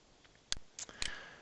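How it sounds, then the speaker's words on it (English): Right mouse-button clicks during AutoCAD 2019 drafting work: three sharp, close clicks spaced about a quarter second apart over a quiet room background. "and right mouse click"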